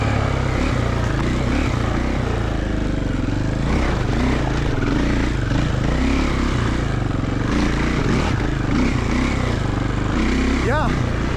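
A Triumph TF450E motorcycle being ridden, a steady loud engine drone with shifting revs that runs the whole time, close to the rider, over rough wind noise.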